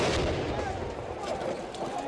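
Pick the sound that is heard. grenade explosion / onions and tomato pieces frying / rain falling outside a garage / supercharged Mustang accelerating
grenade explosion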